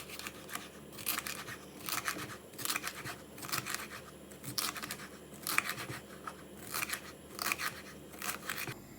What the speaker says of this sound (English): I'm going to cut all vegetables and salad.